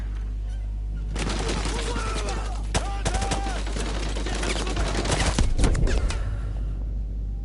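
Gunfire in Call of Duty Modern Warfare 2 inside a building: bursts of sharp shots and automatic fire crackle over a constant low game rumble, with a few louder reports mid-way.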